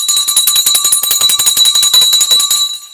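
Closing bell of the stock market rings continuously, a loud rapid metallic clatter with sustained ringing tones, marking the first weekend close of January 2026, fading slightly at the end.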